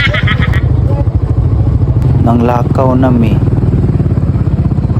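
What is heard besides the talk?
motorcycle riding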